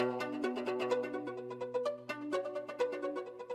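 Plucked melodic notes through an echo delay plugin at full mix blur into a dense wash of repeating echoes, each note smeared and overlapping into a busy, cascading texture.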